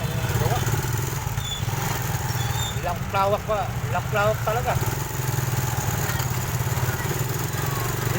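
Several engines run together, a loud steady drone throughout, with someone talking briefly over it in the middle.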